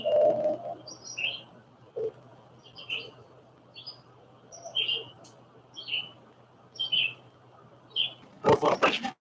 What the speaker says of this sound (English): The more trees you have, the more birds you have.